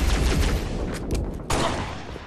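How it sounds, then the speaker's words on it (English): Gunfire in an online shooter game, a dense burst of rapid shots and crackling reports filling the whole clip, loud and close with no talking. "Hey, someone's shooting at me."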